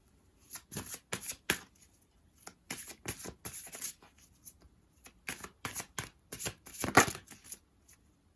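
A deck of affirmation cards being shuffled by hand, with quick papery riffles and taps in irregular bursts, close and fairly soft, with no speech.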